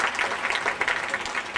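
Brief burst of audience clapping during a pre-wedding ceremony in Surat, a dense patter of many hands, moderately loud and continuous for under two seconds.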